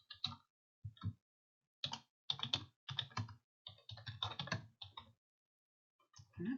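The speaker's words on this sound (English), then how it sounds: "And here they'll type in their answer." Typing on a computer keyboard as a student enters a written answer, with irregular bursts of quick, close key clicks separated by short pauses and no talk.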